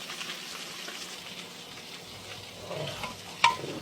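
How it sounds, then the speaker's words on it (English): Fish crisping to a brown finish in a hot pan gives a soft, steady sizzle with light stirring, ending in a short sharp clink near the end. "still, that's my fish. It's almost done, crispy brown, you know. So I'm going to take that off soon."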